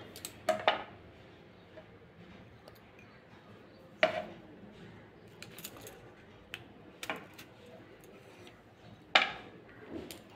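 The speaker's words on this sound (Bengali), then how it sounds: "প্রথমে শিমটা কেটে নেব।" A knife cuts large flat beans (shim) on a board in a home kitchen, giving a handful of sharp, isolated taps spaced seconds apart over a quiet background.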